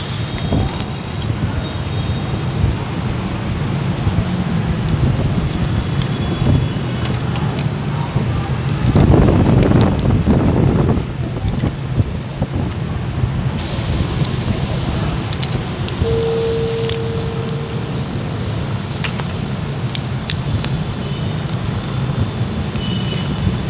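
Pork ribs sizzling over a hot charcoal grill at a Saigon broken-rice stall, a loud continuous crackling hiss with a brief flare in the middle, close and steady with no talk over it.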